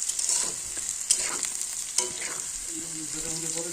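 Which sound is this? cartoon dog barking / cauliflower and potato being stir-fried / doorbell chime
cauliflower and potato being stir-fried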